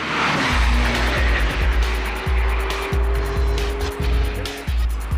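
A Lamborghini Diablo VT Roadster drives hard, its engine revving up through repeated gear changes with sharp drops between pulls, loud and close over a rushing wind backdrop.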